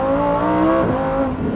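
A 2023 Lamborghini Huracan Tecnica's V10 snarls through a hard launch, its loud, close engine tone climbing steadily in pitch as the car accelerates, with no talking over it.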